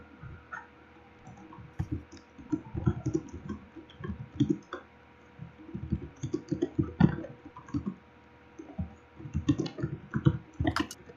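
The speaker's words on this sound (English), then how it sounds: "Oh, yo, he's doing the typing." Someone types on a computer keyboard, producing irregular bursts of close, crisp key clicks separated by brief pauses, with no talking.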